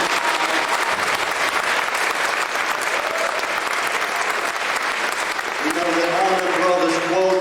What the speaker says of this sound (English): everybody, please clap for our graduates and for coming